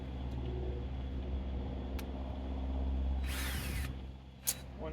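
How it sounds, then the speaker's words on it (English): Power drill pre-drilling holes in a wooden board for a swarm trap mounted on a fence post outdoors, a faint motor whir over a low rumbling background, with a short louder burst near the end. "I'm going to pre-drill a couple holes"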